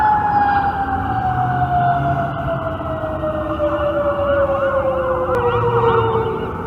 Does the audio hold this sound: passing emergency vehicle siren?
yes